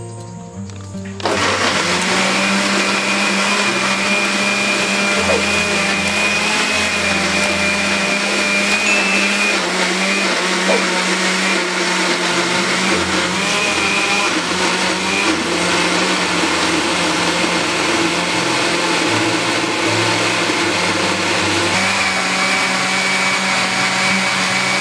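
An electric blender whirs loudly as it purees garlic and bell pepper for a catfish papillote. The motor starts abruptly, then runs in a steady, close, high-pitched drone with slight shifts in load and no speech.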